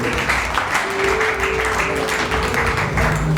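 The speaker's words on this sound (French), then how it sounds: "Levez-vous sous les acclamations de l'église." At a wedding service, a church congregation claps for the family, a dense, continuous wash of applause from many hands with a sustained musical tone underneath.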